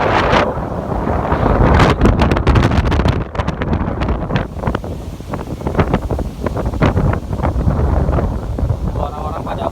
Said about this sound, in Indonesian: kencang banget nih guys anginnya